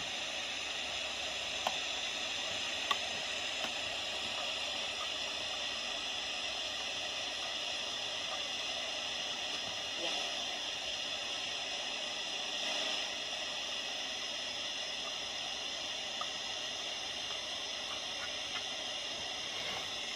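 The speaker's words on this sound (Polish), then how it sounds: "cisza na UKF, jest sam szum" Unitra Eltra Halina R 802 radio receiver tuned to the FM band gives a steady, even static hiss with no station, holding at a constant level, with a few faint ticks.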